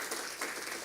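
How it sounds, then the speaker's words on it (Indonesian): Congregation applauding during a Sunday morning church service, a steady, dense wash of clapping that fills the short moment with slight swells and no voices on top. "Tepuk tangan dulu untuk Tuhan yang luar biasa."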